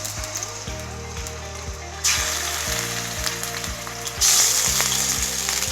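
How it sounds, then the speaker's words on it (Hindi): Mutton fries in hot oil with a steady sizzle, close and fairly loud, swelling sharply twice as the meat is stirred, with background music underneath. "तो पहले अच्छे से हम भून लेंगे मटन को, अच्छे से हम लोग भून लेंगे ऑयल में।"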